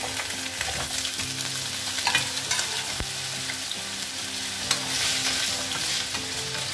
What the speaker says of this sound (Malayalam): വെളിച്ചെണ്ണ ചൂടായിട്ടുണ്ട് ഇതിലോട്ട് നമുക്ക് കട്ട് ചെയ്ത് വെച്ചിട്ടുള്ള പൊട്ടറ്റോ ഇട്ട് കൊടുക്കാം